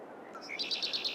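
Ducks in a farming video game called Calm Lands: a short burst of high, thin chirping calls in a quick repeated series, clear and close with no other sound around them.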